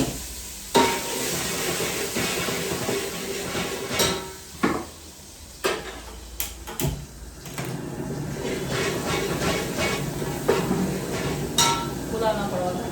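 Capsicum hits hot oil in a pan while tempering for a Punjabi-style Manchurian pulao, giving a steady broad sizzle throughout, with intermittent close clinks and scrapes of a stirring utensil against the pan.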